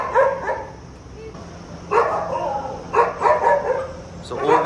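Rescued dogs, some paralyzed, bark in short strained bursts at a shelter, several yelps spaced over a few seconds with faint background voices.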